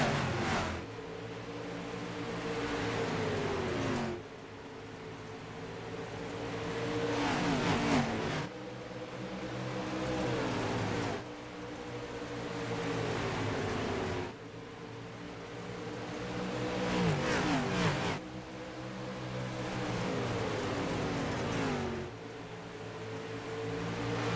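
Dirt late model race cars roar around Bristol Dirt in iRacing, a steady layered engine drone with repeated surges and dips as the pack passes, loud and continuous with no voices.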